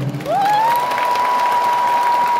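An audience applauds steadily at a live concert, the clapping running throughout while a sustained rising tone from the stage sound system rings over it.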